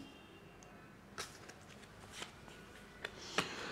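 Tarot cards drawn from a deck make faint, soft slaps and papery flicks, a handful of quick, close card sounds in a quiet room.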